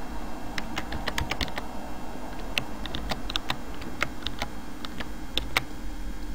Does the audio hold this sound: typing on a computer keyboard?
yes